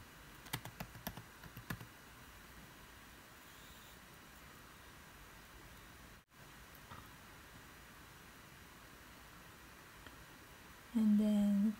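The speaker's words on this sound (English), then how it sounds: "And I will type" Computer keyboard keys tapped in a brief cluster of quick clicks near the start, close and fairly quiet over a steady background hiss, with the rest mostly still apart from a short tonal sound at the end.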